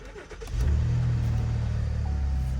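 A 2022 Ford F-350 diesel truck engine at a Copart auction lot cranks and fires, then settles into a steady, loud low rumbling idle close by, with no talking.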